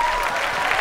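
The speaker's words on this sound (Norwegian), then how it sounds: "en applaus for griseøyne." A festival crowd at Hovefestivalen breaks into applause, a brief, loud burst of clapping less than a second long.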